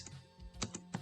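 Keys tapped on a computer keyboard while configuring IPv6 on a router interface, a few close, light clicks in an irregular rhythm with no talking.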